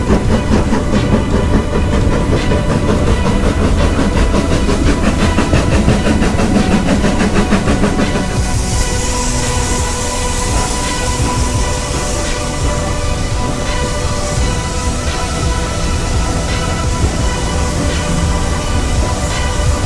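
A steam train runs on rails near Bury, a loud continuous rumble with rhythmic clattering wheels and hissing, heard from on board and steady throughout.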